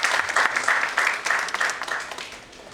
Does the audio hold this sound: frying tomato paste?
no